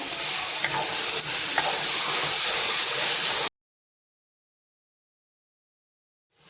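Boiled spinach and turnip are mixed in a cooking pot for palak gosht, a loud, steady hissing sizzle with faint stirring scrapes that cuts off abruptly into silence.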